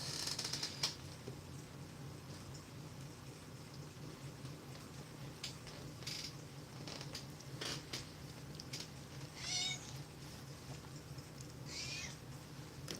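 A cat meows softly a couple of times, brief rising cries set against a quiet, steady indoor background hum.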